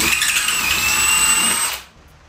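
Bosch GSB 18V-150C cordless hammer drill whirring loudly and close at a steady high pitch, then stopping abruptly near the end with no speech.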